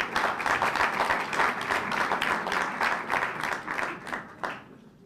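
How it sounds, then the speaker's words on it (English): An audience at a civic association gathering breaks into a hearty round of applause that holds full and steady, then thins out and fades in the last second or so. No speech can be heard over it. "Give yourselves a good round of applause."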